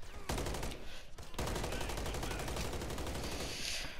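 Rapid bursts of automatic gunfire aimed at zombies in Modern Warfare 3 Zombies, a dense, loud rattle of shots with a brief pause early on, then sustained firing.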